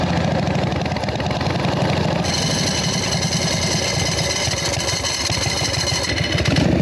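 A jockey shift foot clutch motorcycle with no front brake rolling to a stop in first gear, its engine a steady loud mid-low rumble with clattering mechanical texture, near and continuous, no talking.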